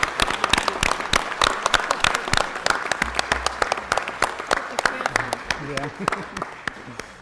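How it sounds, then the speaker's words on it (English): Sustained rousing applause for the Parks and Recreation team at a Los Angeles city council meeting, with dense clapping from many people that thins out toward the end while voices murmur underneath. "give the Parks and Recreation team a rousing applause"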